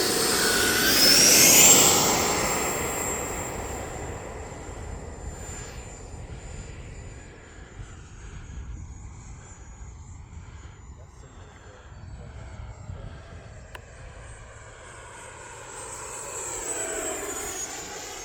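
An E-flite F-16 Falcon RC jet with an 80mm fan flies overhead, its whining roar loud and close at first, then thinning into a steadier distant drone before swelling again near the end.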